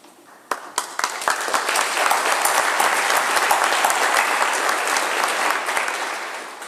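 A convocation ceremony audience bursts into applause, a few sharp early claps quickly building into a full, dense round of clapping that stays loud and steady throughout.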